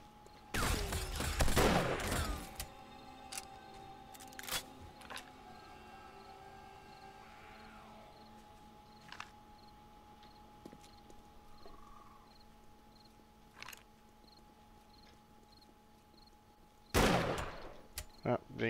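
Pipe rifle gunfire in the zombie survival game 7 Days to Die (Darkness Falls mod), a quick burst of loud close shots at the start and another near the end, quiet game ambience between.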